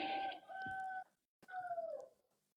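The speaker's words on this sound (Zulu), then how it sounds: "lenkukhu ekhala yalapha ekhaya" A rooster crows at a home: two loud, close calls, each held for about a second, with a brief quiet gap between them.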